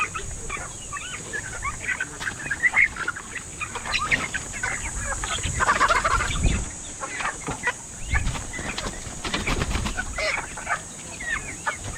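Hens on a farm cluck and chatter continuously, several birds close by with overlapping calls and a few louder squawks, over a steady background hiss.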